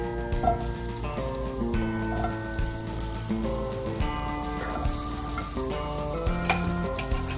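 Potatoes frying in a pan for a wild boar breakfast burrito give a steady, loud sizzle that runs unbroken throughout, with a sustained tonal hum layered underneath.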